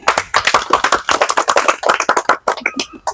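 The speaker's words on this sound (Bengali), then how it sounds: "তাহলে জোরে করতালি।" A crowd gives loud, dense clapping at a village water-bottle-filling game, a steady rapid patter of many hands close by that thins toward the end.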